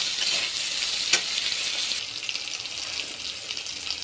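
Chopped garlic and tomato sprinkled with salt fry in a pan, giving a steady, close hiss of sizzling with one brief stirring clack and a slight softening partway through.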